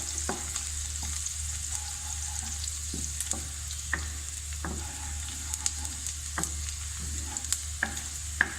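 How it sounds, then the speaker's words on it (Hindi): Onions fry gently in a pan until just soft, a continuous even sizzle with a low burner hum and occasional spoon clicks and stirs, close and alone without speech. "हमने प्याज को गोल्डन ब्राउन नहीं करना, हल्का सा सॉफ्ट करना है बस, ज़्यादा नहीं पकाना इसको।"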